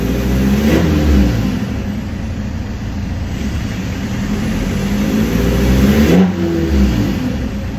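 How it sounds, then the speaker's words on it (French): A BMW E90 with the M47 diesel engine is revved to about 2500 rpm a few times, a loud, close engine roar that swells and eases in repeated rises over a steady running drone, with no talk. "faire 2-3 accélérations à 2500 tours"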